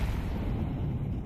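A grenade goes off in a competitive online shooter match, a dense low boom that rumbles steadily through the whole short moment.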